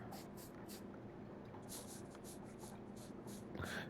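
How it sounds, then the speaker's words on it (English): Spray paint hisses onto a car in the body shop of Car Dealer Simulator on PS5, coming as short bursts of airy spray in a steady rhythm over a low background rumble. "So spray paint. This is very slow going."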